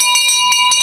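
A town crier's hand bell rings loud and bright at a New Year's Day boundary walk in Abingdon on Thames, with four rapid clangs close by and a sustained metallic ring between strikes.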